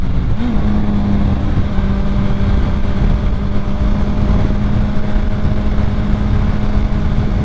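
Steady, loud engine drone from a 2006 Honda CBR1000RR sport motorcycle, holding a constant tone throughout with heavy wind rush and low rumble, no speech.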